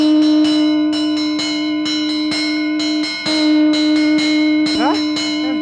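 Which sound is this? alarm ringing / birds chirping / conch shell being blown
conch shell being blown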